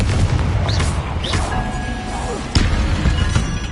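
Confringo blasting spell explosions in Hogwarts Legacy during a fight with spiders, several loud booms and crashes spread across a few seconds with whooshing spell effects and a sharp hit near the middle.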